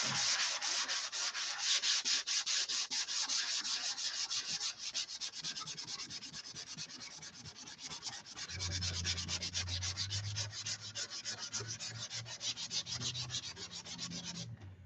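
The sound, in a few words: sanding a repaired wing of a Tucker XL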